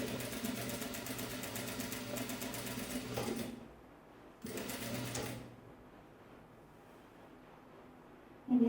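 A sewing machine stitching a Vietnamese ao dai, a fast steady whirring run of about three seconds, a pause, then a second shorter burst before quiet.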